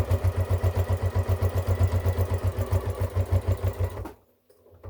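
Domestic sewing machine stitching a fabric microwave bowl cosy, running a steady rapid motor chug with even stitch pulses for about four seconds before stopping abruptly into near silence.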